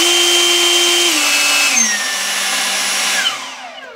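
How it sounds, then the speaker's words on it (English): An Ego LB7654 handheld leaf blower roars loud and close with a steady motor whine that steps up in pitch as turbo engages, then begins to spool down near the end. "I can press the turbo button to give it maximum power."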